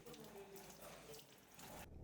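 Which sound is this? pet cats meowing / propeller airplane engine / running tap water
running tap water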